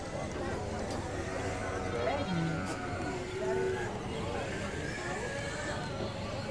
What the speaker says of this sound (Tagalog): Daming mga kambing dito magaganda.